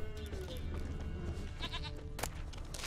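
A goat bleats briefly a couple of times in The Witcher 3 against a steady background hum, fairly faint and a little distant.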